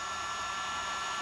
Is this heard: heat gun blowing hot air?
yes